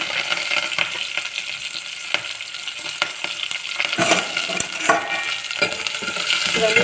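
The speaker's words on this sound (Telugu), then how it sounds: "ఇవన్నీ బాగా వేగాలండి." Urad dal, cumin, onion and curry leaves fry in a pan for a village-style black-eyed pea curry, sizzling steadily with clinks and scrapes of a metal spoon stirring, loud and close.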